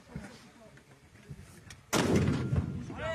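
A single loud, close gunshot fired during a live-fire engagement. A sharp blast is followed by a lingering boom. Before the shot there is faint background noise with some indistinct voices.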